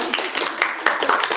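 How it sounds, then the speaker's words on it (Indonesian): Clapping from a small group in a group counseling session, close and uneven, a brief patter of hand claps with a few sharper individual strikes. "Oke, tepuk tangan dulu."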